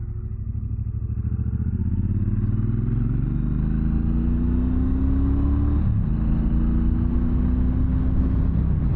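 A 2024 Triumph Bonneville Bobber with its 1200 engine runs close up with a deep, steady rumble, revving gradually upward with a brief dip partway through, alone without talk.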